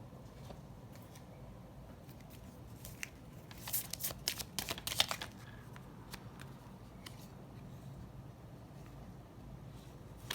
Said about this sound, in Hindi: बट फिर भी शफल करूँगी,